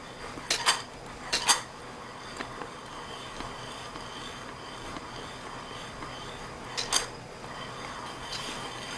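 Coffee beans being roasted in a covered pan are stirred, with metallic clinks and rattles in a few short bursts over a steady, faint background hiss.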